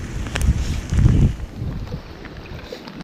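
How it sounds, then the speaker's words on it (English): Strong wind buffets a microphone outdoors in the Eastern Sierra mountains, a loud continuous rumbling roar that surges heavier for a moment before easing, with no one talking. "really windy out here right now, man."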